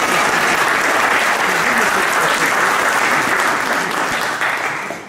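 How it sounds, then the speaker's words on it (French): Loud, sustained applause from an audience at a ceremony at a Jewish cultural centre in Nogent-sur-Marne, dense clapping holding steady before tapering slightly at the end. "vous pouvez applaudir, hein."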